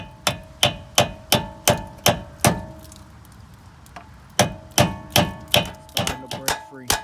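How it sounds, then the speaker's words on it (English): Sharp metal-on-metal strikes of a hammer driving a chisel against a rusted wheel hub on a 2005 Chevy Tahoe, a steady series of about eight close, ringing blows, a short pause, then another quicker run of hits. "You can get like a little chisel or something in there to hit to just to get it moving, try to break all the rust and stuff free."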